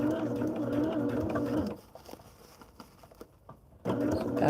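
A sewing machine runs steadily as it stitches through fabric layers for a modern sampler quilt, then pauses briefly for a quieter stretch before the stitching resumes.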